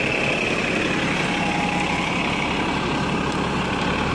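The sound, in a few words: double-decker bus engine idling on a Hong Kong street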